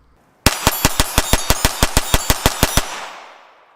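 Taurus TX22 Competition .22 pistol fired in one rapid burst of about fifteen loud, evenly spaced gunshots outdoors in winter, ending with a short fading echo.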